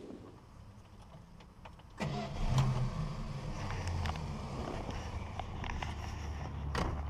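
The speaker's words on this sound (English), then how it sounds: "We'll get the car fired up, listen to the engine run" A 1962 Dodge Lancer GT starts after a brief quiet moment: a short crank catches into a quick revving fire, then the engine settles into a very quiet, smooth idle.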